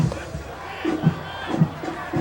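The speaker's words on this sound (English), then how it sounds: "They trying to get the war chant going here for the Dragons." A crowd of close to 1,000 at a 1991 high school football game, DeLaSalle at Lake Orion, chants rhythmically in repeated low pulses that echo across the stadium, heard at a distance.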